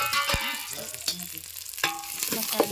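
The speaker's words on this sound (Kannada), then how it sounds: "ಮೆಣಸಿನ್ಕಾಯಿ ಎಲ್ಲ ಫ್ರೈ ಆಗಿದೆ" Carrots, sliced onion, broken chillies and peas fry in hot oil, a soft sizzling under scattered stirring scrapes and clicks of a utensil against the pan.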